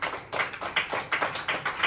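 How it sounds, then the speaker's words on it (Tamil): A church congregation claps steadily during an Advent Sunday service, a dense, even run of hand claps filling the room with no talking over it. "கைத்தட்டி ஆண்டவரை மகிமைப்படுத்தும்"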